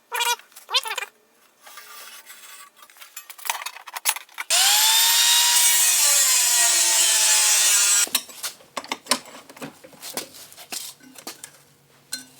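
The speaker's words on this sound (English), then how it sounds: "then I'm using a bandsaw here to cut the smaller pieces to size" A bandsaw cuts a small piece of 1/8-inch steel plate, starting with a loud continuous whine and screech for several seconds. Scattered shop clatter and handling sounds come before and after.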